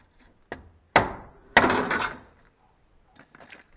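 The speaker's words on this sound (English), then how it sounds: "I will try to tap this in with this head bolt" Three sharp metallic taps from a head bolt striking a part on a 1996 Peugeot 306 convertible during fender work, spaced about half a second apart, the last two ringing briefly, followed by faint handling noises.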